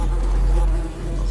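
Flies buzz with a low, steady drone in a metro depot tunnel area, continuous and fairly close throughout.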